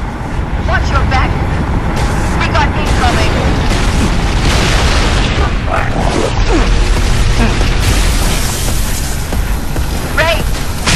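A UNSC air-support bombing run in the game Halo Reach sends up loud, dense booming explosions that rumble continuously for several seconds, layered with in-game chatter and battle noise.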